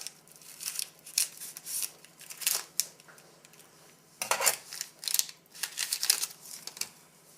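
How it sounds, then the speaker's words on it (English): Scissors snipping the tag off a tea bag from a British 24-hour ration pack, a quick series of close, crisp cuts and rustles with short pauses, no talking. "I cut the tag off the tea"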